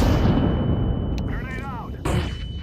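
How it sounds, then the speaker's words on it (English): A flashbang grenade detonates in the video game Counter-Strike 2, a loud blast cutting through steady, heavy in-game noise, followed by a whining ring and a second sharp burst near the end. "I'm throwing the flashbang."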